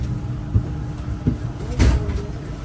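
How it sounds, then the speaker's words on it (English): A Sydney Trains V Set train heard from inside near the driver compartment: a low steady rumble with a few soft thumps and a brief hiss of air, fairly close and moderately loud. "so you can get just the sounds of the V Set"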